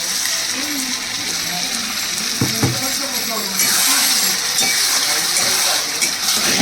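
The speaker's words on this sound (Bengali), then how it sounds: "এবার দিয়ে দিচ্ছি এর মধ্যে 1 চামচ দই ফাটিয়ে" A spoonful of whisked yogurt goes into frying spice paste for chicken kosha, lifting a steady sizzle into a louder, brighter hiss partway through, with a few clinks of a utensil against the pan.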